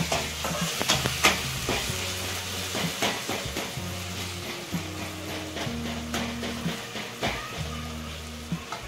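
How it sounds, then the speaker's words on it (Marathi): Tomatoes for a moth bean curry are stirred and mashed in a sizzling frying pan, with repeated rhythmic scraping strokes over a steady close frying hiss and no talking. "बारीक करून घेऊ आपण टमाटर"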